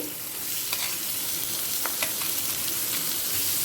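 Chopped onions frying with dry red chilli and garam masala for chicken curry, a loud continuous sizzle close by with a few sharp stirring scrapes.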